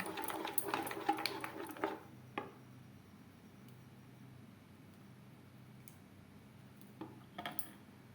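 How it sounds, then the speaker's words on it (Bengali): Dosa batter is whisked in a small bowl, a quick burst of wet clinking and scraping for about two seconds, then quiet background with a few faint taps later. "প্রত্যেকবার ধোসা তৈরি করার সময় অবশ্যই এভাবে একটু ফেটিয়ে নেবেন।"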